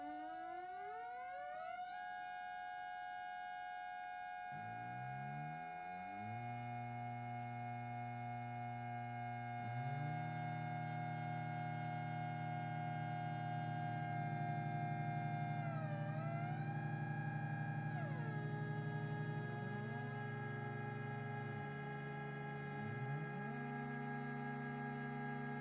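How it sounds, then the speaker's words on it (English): A drone synth with five oscillators gives off overlapping sustained electronic tones that slide up and down in pitch and stack into a thick, wavering chord, steady and fairly loud with no speech. "When you turn this round to the right, you'll get different tones coming through."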